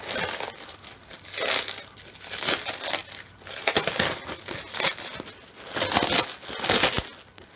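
A large wrapped piece of silicone arm is unwrapped, making loud, continuous crinkling and crumpling of wrapping material in repeated bursts, close and with no talk.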